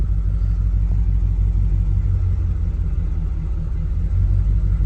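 A 1938-1939 Ford two-door hot rod idles with a heavy, steady low rumble, close and loud, holding an even engine note throughout with no voices.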